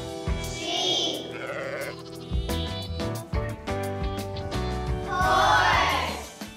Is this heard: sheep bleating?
yes